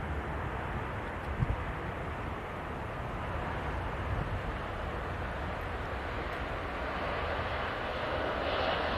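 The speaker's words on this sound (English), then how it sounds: "Very nice landing from that TUI." A TUI airliner lands at Manchester Airport, heard as a steady broad roar of jet engines at a distance that swells slightly louder toward the end.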